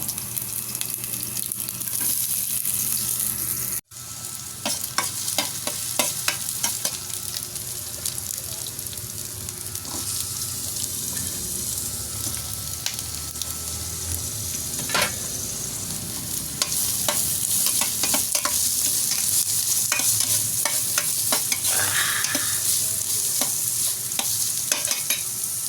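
Garlic sautéing in a pan for Filipino pork pininyahan, a dense continuous sizzle with frequent utensil scrapes and stirring. A brief cut falls early, then the frying carries on steadily and a little louder toward the end.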